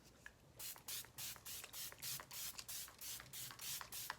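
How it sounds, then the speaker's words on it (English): A rapid series of short, sharp spray bursts from a pump bottle, about a dozen quick pumps in a steady rhythm, close up. "Let's just set this with some setting spray"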